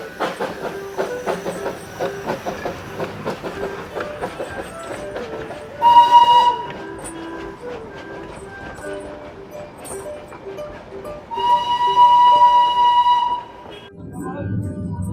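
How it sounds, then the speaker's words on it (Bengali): The Darjeeling toy train pulls out of Ghum railway station, its wheels clattering steadily and whistle-like tones blaring loudly twice, with brief voices nearby. "এক্ষুনি এখান থেকে টয় ট্রেন ছেড়ে চলে গেল দার্জিলিংয়ের উদ্দেশ্যে"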